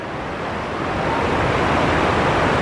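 Broad, continuous rushing roar of the fast-moving Bhagirathi river near Devprayag, steady and loud, growing slightly stronger partway through.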